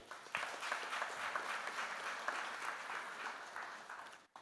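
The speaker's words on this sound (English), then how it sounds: "Have a great round of applause for yourselves." Graduation audience clapping at a university convocation, soft and somewhat distant, a steady patter of many hands with occasional louder claps, tapering briefly before the end.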